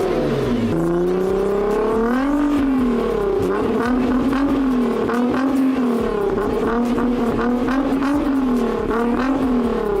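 A rebuilt, crash-damaged Nissan GT-R engine runs and revs close by, its loud tone sweeping up and down in repeated rises without pause, with no voices over it.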